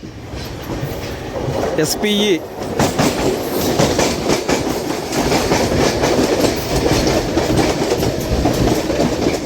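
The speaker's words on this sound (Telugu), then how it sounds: "అదిరిపోయే మెమో ట్రైన్ వస్తుంది" A MEMU train rolls through Gudur Junction railway station, loud and close, with steady clickety-clack and some wheel squeal, and a voice speaks briefly over it.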